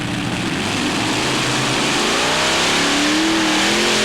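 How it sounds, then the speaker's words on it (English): Loud, powerful Chevrolet engines on a pulling tractor roar and rev continuously at a 1995 tractor pulling event at Walibi Flevo, Netherlands, the pitch climbing steadily toward the end. "listen to those Chevys really pushing out the power"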